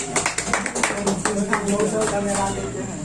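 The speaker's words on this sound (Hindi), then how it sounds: "तो प्रकाश जी के लिए जोरदार ताली बजाइए।" An audience claps for a newly selected Agniveer army recruit, a burst of hand claps in the first second that fades under a steady background murmur.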